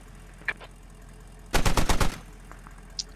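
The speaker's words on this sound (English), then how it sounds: "Ram's taking random shots" A rapid burst of about seven automatic gunshots rings out in the Squad video game, with a couple of faint isolated shots before and after, no voices.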